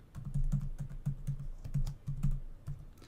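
Rapid keystrokes on a computer keyboard entering text into an answer field, a steady uneven clatter of close, moderately loud taps with no voices.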